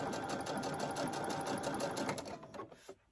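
A sewing machine back-stitches a hooded towel in a fast, steady mechanical whir that runs close and loud for about two seconds, then slows and stops with a couple of final clicks.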